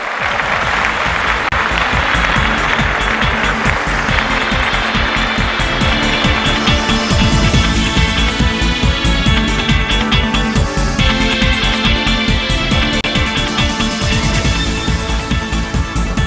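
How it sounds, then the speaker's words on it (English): An awards-night audience at the NDTV Prime Property Awards gives a big, sustained round of applause for the Hiranandani Group, loud, dense clapping with background music running underneath. "a big round of applause for the Hiranandani Group for creating two of Mumbai region's finest townships"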